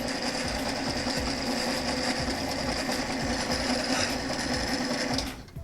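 A rebuilt sewing machine runs steadily with a rough, clattering mechanical whir and a constant high whine, fairly close and loud, stopping abruptly near the end.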